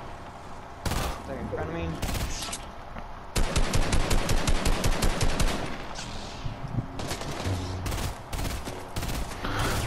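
Gunfire in a first-person shooter video game, with rapid automatic bursts and single shots, some loud and close and some farther off, mixed with brief voice chat between players.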